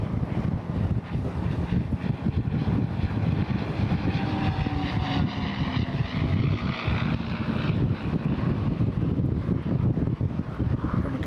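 A pair of Rolls-Royce Merlin-powered aircraft fly past at an airshow, a steady loud propeller engine drone with wind rumble, continuous throughout.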